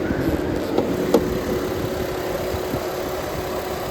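A Jeep Wrangler Unlimited Sahara 4WD's 3.8-liter engine idles steadily at close range, a low, even rumble with a faint hum and a couple of small clicks near the start, and no talk.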